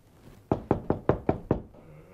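Six sharp knocks on a door land in quick, even succession, loud and close, after a brief quiet lead-in.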